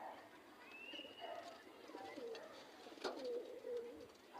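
Pigeons cooing at nightfall around a rooftop loft, soft low calls repeating faintly over a quiet, steady background.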